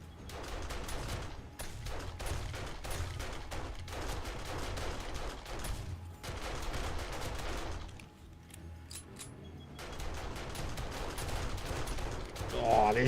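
Shotguns blasting in a dense, nearly continuous barrage during a horde night in the game 7 Days to Die, loud and chaotic with brief lulls between volleys.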